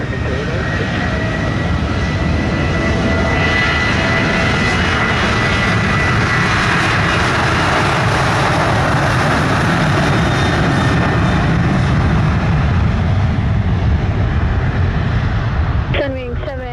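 An American Airlines jet takes off at Montego Bay, Jamaica, its engines roaring loud and continuous throughout, swelling steadily with a broad rushing noise.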